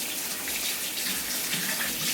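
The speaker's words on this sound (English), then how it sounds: "Just rinse my hands really quick." Hands rinsed under a running kitchen tap while cooking pork chops, a steady broadband rush of water splashing close by with no talk.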